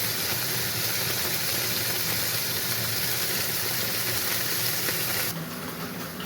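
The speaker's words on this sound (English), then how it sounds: "Frying the tofu." Tofu frying in hot oil in a home kitchen, a dense continuous sizzle and hiss that holds steady throughout, then drops a little at the very end, with no voices.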